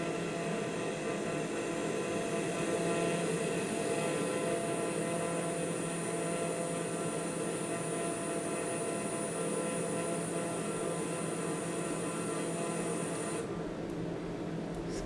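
Steady single-engine propeller drone of a light plane in Microsoft Flight Simulator, a constant loud hum with layered harmonics throughout, easing slightly in tone near the end as the throttle comes down.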